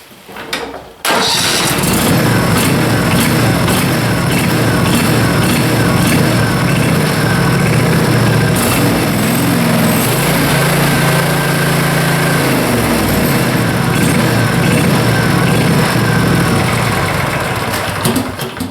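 A small Briggs and Stratton gasoline engine starts and then runs loud and steady at close range, a constant buzzing drone with no talking.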